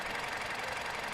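Steady, fairly quiet engine idle heard from the engine bay of a used compact MPV, an even mechanical hum and patter with no talk.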